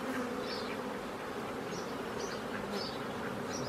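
Honeybees buzzing around an open hive while a beekeeper places cell-cup frames, a dense steady drone with individual bees whining past nearby, no voices.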